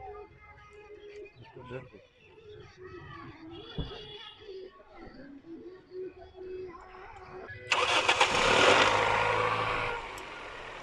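A Toyota G Corolla engine cranks and starts near the end, a loud rushing burst that settles into a steady run after several seconds of people talking nearby.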